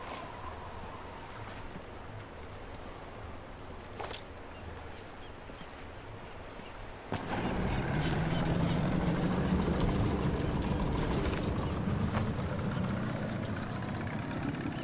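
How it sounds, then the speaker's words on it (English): A boat engine in the Sniper Elite 4 video game idles steadily near a beach, joined about halfway through by a louder, closer rumble of motor and water that carries on to the end, with no talking. "And there's a boat. Damn boat's going to make an approach via the beach tricky."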